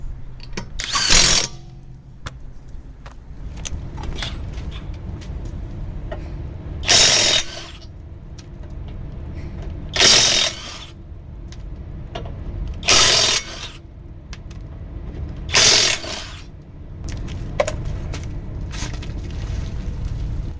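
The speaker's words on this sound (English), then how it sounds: "this is going to be a test for this new SeeSii Impact Wrench. I'm going to try and take off this bottom shock absorber bolt" A SeeSii WH750 cordless impact wrench hammers at a bottom shock absorber bolt on a vehicle, giving several short, loud rattling bursts a few seconds apart over faint background noise.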